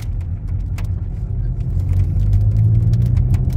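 A Volkswagen Golf GTI Mk8 drives along a road, with a loud, steady low engine and road rumble heard from inside the cabin that builds slightly toward the end.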